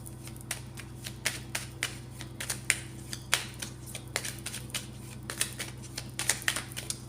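Oracle cards being shuffled by hand on a table, giving a series of soft, papery riffles and taps in irregular rhythm, close and fairly quiet over a steady low hum, with no speech.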